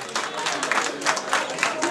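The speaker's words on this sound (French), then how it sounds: "Voilà, applaudissez s'il vous plaît" Applause from an audience at a French event as a lady enters the ring, a steady wash of clapping with some speech-like sound mixed in, moderately faint and continuous throughout.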